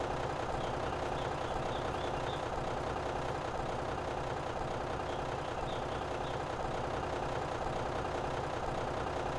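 Vehicle engine in the war game Running with Rifles, a steady broadband rumble running unbroken throughout with faint high beeping, no talk.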